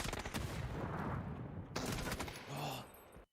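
Close-quarters gunfire in a PUBG esports match, a dense, loud burst of rapid automatic shots running almost the whole time, with a second sharp volley partway through and no speech.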